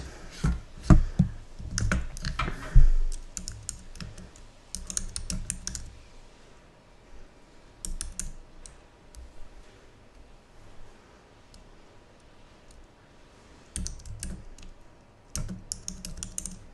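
Computer keyboard typing in quick bursts of clicky keystrokes, denser at first and then thinning into sparse taps with quiet gaps, close-miked with no talk.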